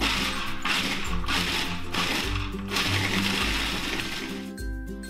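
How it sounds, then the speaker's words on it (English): Food processor blending nuts and other ingredients for no-bake fudge energy bars: several short pulses of loud, gritty whirring and chopping, then a longer continuous run, close up with no talking. "First, begin by pulsing a few times and then let the food processor run."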